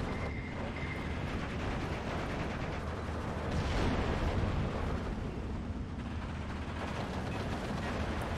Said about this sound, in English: there's something all the way back there that's shooting quite quickly. I mean, it must be multiple panzers